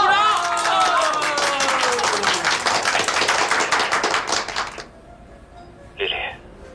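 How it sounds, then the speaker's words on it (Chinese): A group of classmates at a celebration bursts into applause, a run of rapid clapping lasting several seconds under a loud speaking voice, then fading out, followed by a short isolated sound. "鼓掌！"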